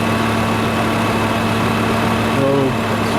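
A Volvo 850 engine idles steadily with its AC compressor pump running, a close, constant hum and whir, with a voice speaking briefly over it.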